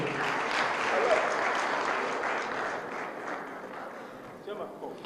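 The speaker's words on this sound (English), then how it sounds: "A round of applause for her again." A crowd applauds steadily for several seconds, a dense wash of clapping that slowly fades toward the end.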